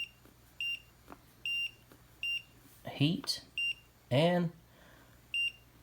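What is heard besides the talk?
battery-powered cooking lunchbox timer button beeps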